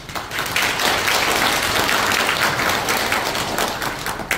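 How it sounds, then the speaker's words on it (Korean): At a 2022 Bareun Salgi movement members' convention in Pocheon, an audience claps vigorously for the chairman, steady and fairly loud before trailing off at the end. "우리 회장님한테도 힘차게 박수 보내주세요"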